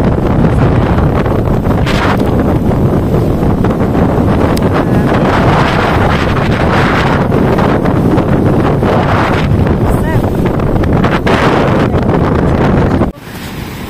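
Strong wind at a beach buffets the microphone in a loud, roaring rush, with surf and waves blending underneath before the noise drops off sharply at the end.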